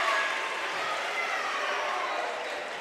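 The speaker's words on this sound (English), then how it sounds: "You hear the crowd come alive." Crowd at a homecoming high school girls' basketball game in Owensville against Union, a steady dense roar of cheering and noise from the stands, loud and continuous throughout.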